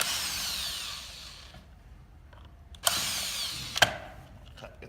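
A Phillips head driver works screws out of the diffuser on an AC motor pump, a whirring burst that stops, then a couple of sharp clicks and clatters of parts close by.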